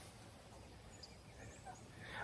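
Turkeys raised for meat alongside chickens gobble faintly inside a coop, the calls distant and low against a steady background hush, with no talking.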